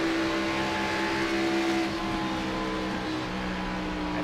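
A stock race car engine at Kansas Speedway holds a steady, loud drone with slight pitch wobble, a continuous roar from nearby with no talking.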